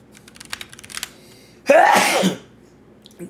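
A single loud, close sneeze bursts out after soft tapping and clicks, lasting under a second before quiet returns.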